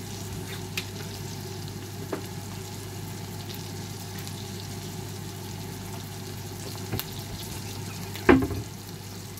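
Tahong mussels cooking in butter in a pan give a steady close sizzle and fry that runs throughout, with a brief louder clink or stir near the end and no talk.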